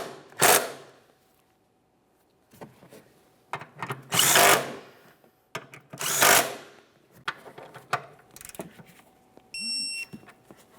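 A power tool snugs the rear shock absorber bolts on a 2017-2024 GMC Acadia in three or four short, loud whirring bursts separated by quiet gaps, followed by a brief electronic beep at the end.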